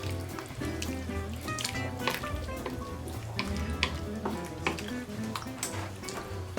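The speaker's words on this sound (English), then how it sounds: "Give it a good stir." Soup with beef cubes is stirred in a pot, with a busy run of liquid swishes, small splashes and spoon knocks against the pot under a simmering sizzle, all up close and with no voices.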